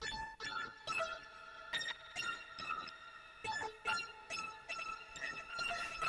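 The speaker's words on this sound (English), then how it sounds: "It does reverses and stutters." A plucky synth runs through the Blackmagic reverb's Glitch engine on an experiment preset, its short notes chopped into stutters and reversed swells in an uneven, glitchy rhythm, heard clearly and alone.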